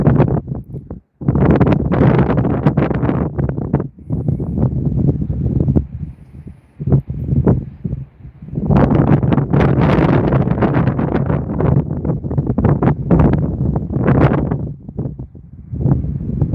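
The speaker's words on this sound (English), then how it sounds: "It's the wind." Strong gusting wind during heavy snow, loud buffeting and roaring against the microphone in surges with short lulls, close and harsh throughout.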